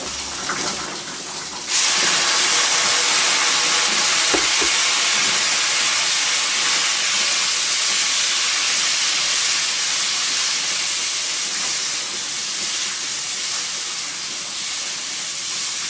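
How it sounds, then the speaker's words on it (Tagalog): Hot water pours steadily into a bowl for making dough, a loud, continuous hissing rush that starts after a short, quieter opening and carries on evenly to the end. "Ito na yun siya. Mainit na tubig."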